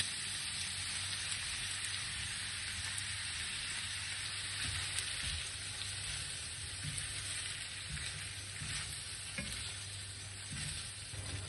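Eggplant with tomato passata sizzles steadily in a pan, a constant close frying hiss with occasional stirring scrapes and faint bubbling.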